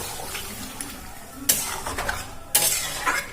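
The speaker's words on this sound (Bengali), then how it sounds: "ভালো করে নাড়াচাড়া করে নেব।" A potato and papaya curry is stirred in a pot, with soft wet scrapes and two sharper clanks of the utensil against the pot, fairly close with a faint sizzle beneath.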